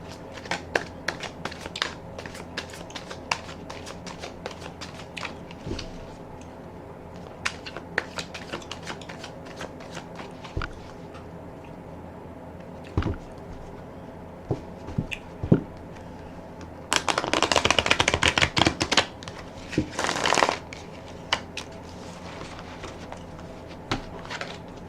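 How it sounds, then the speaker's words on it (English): Tarot cards being riffled and shuffled by hand, soft scattered card taps and slides, then a brief loud riffle burst and a second shorter one, close and alone with no talk. "I will put another rifle and shuffle on the deck."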